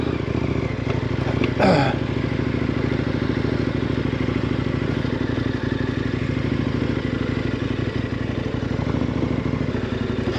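A KTM 1090 Adventure motorcycle being ridden, its engine a steady mid-pitched drone close by, with a brief clattering scrape near the start and continuous rumble throughout.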